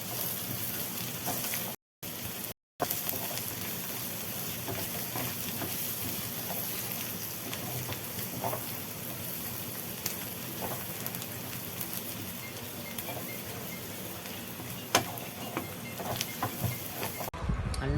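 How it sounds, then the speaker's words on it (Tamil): Chutney ingredients with chilli powder sizzle and crackle steadily in a hot pan, a dense close frying hiss with a few brief gaps. "சில்லி பவுடர் கொஞ்சம் சேர்த்துக்கிறோம். நல்லா வதக்கி விட்டுக்கோங்க."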